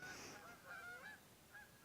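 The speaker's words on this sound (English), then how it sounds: "Geese." Several geese honk a few times at a distance, faint short calls over a quiet background.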